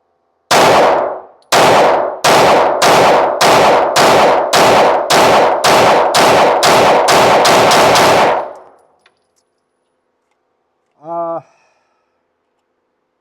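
Fifteen sharp, loud pistol shots from a Ruger/Magpul handgun firing Blazer 115 grain rounds ring out in quick, evenly spaced succession, followed by a pause and a brief metallic ping.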